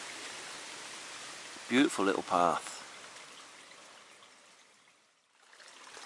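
Water trickling and running down a hillside path like a small stream in the Cambrian Mountains above the Elan Valley, a steady soft wash with a brief spoken remark over it midway.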